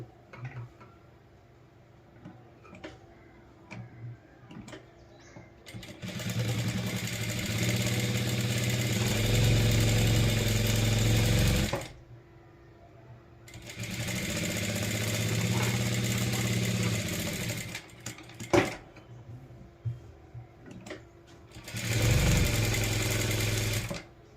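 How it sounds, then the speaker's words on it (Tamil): Sewing machine running in three long bursts while hemming a pillow cover, with short pauses between runs and a steady, fairly close mechanical whir. "இதை மடித்து தைக்கிறோம் ரொம்ப சிம்பிள் இங்கே ஒரு ஸ்டிச் இங்கே ஒரு ஸ்டிச் போட்டாச்சுனாலே பில்லோ கவர் ரெடி ஆகிட்டு"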